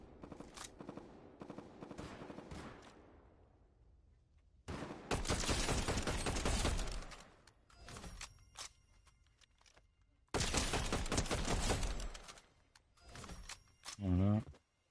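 Bursts of rapid gunfire in the video game Fortnite come in loud clusters separated by quieter stretches, with a player speaking French during the gameplay.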